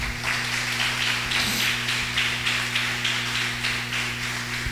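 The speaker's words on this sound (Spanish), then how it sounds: "Un aplauso para el Señor." A church congregation claps steadily after a sermon, dense rhythmic applause that holds evenly throughout over a constant low electrical hum.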